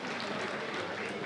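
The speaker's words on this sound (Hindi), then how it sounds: "जरा जोरदार ताली बजाइए मित्रों।" Brief, steady applause from the audience at a Hindi comedy poetry show in Meerut, dense clapping heard at a distance and fairly quiet, with no speech over it.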